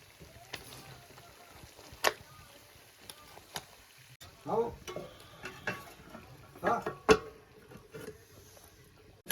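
A heated dish is stirred in a pot, giving scattered scraping and clinking knocks, a few sharper taps, over a soft background with faint talk nearby.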